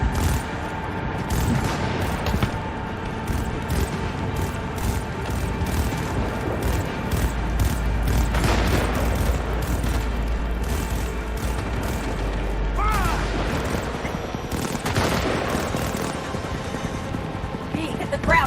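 Gunfire in Cyberpunk 2077, loud repeated shots and booms through a steady, busy action mix, with voices talking among the shooting.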